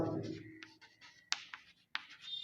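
Chalk or marker writing on a classroom board: short scratchy strokes with a few sharp taps, quiet and close, after a brief trailing voice at the start.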